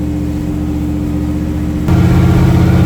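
A 1966 Chevrolet Corvette Stingray on a cold start, its engine idling with a loud, close, steady rumble before the revs step up and the note grows heavier and louder, no talking.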